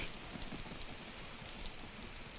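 Steady rain falls outdoors, a dense even hiss of drops on surfaces that continues unbroken and fairly close.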